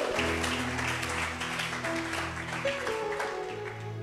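A congregation applauding during a church service, a steady wash of clapping beneath sustained organ or keyboard tones, moderately loud throughout.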